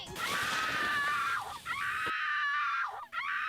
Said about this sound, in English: That scream sound effect.